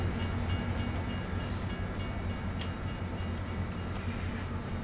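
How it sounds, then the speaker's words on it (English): A moving train in Farming Simulator 22 gives a steady, loud rumble with rail clatter. The sound holds constant across the whole stretch and no voices can be heard. "so you can't get into the train when it's moving"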